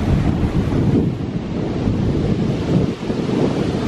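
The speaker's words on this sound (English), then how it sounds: "That is what you call waves." Ocean surf roars continuously on a beach at Brighton while strong wind buffets the microphone, producing a dense, steady rush with no voices.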